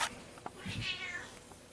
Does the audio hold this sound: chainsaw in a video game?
no